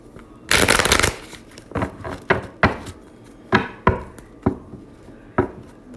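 A tarot deck being shuffled up close: one long riffling burst followed by a string of separate sharp card taps and slaps at uneven intervals.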